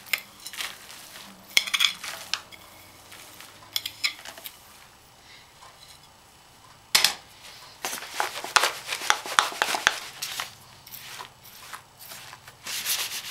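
Baklava filling scraped and spread over buttered pastry layers, with soft rubbing and scraping strokes, intermittent clinks of a spoon against a dish, and quiet pauses between bursts, close and fairly faint.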